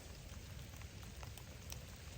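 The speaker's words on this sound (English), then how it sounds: "That rain is setting in." Rain setting in on raw rural land, a soft continuous patter of drops on surfaces, faint and steady with no voices.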